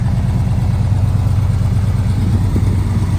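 A 1973 Chevrolet Camaro's engine runs at a steady idle, a close, even, low rumble with a faint rhythmic clatter and no voices over it.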